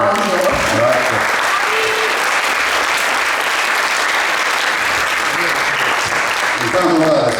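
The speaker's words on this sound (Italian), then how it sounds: "Un applauso se lo merita. Un applauso." Sustained audience applause fills a conference hall at an event on autonomy and responsibility, dense and steady throughout, with brief voices surfacing faintly at the start and end.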